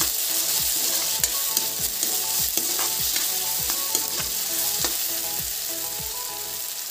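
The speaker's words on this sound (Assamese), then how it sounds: "এইখিনিৰ লগতো অকণমান ভাজি ল'ম যাতে নহৰুৰ গোন্ধটো যায় আৰু এইখিনি জলকীয়া বিলাহী গাজৰ একেলগে দি দিছোঁ" Vegetables with chillies, tomato and carrot fry over a low gas flame, giving a loud, close, continuous sizzle broken by regular stirring strokes about twice a second. No talking.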